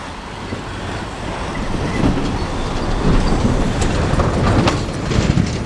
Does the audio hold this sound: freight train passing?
yes